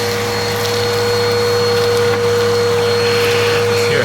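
A Bissell Power Force Helix upright vacuum cleaner runs continuously with a loud, steady motor whine and airflow roar, close and unbroken throughout.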